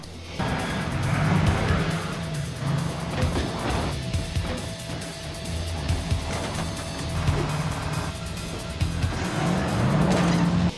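Vans racing through a car chase in the film Armored: roaring engines and screeching tires sustain loud throughout, with repeated skidding squeals and passing rushes, no talk.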